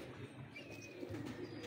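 Fancy pigeons in an indoor loft coo softly, the low murmuring calls faint against a quiet room background.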